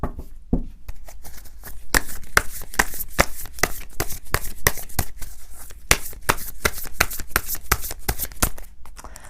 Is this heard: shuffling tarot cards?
yes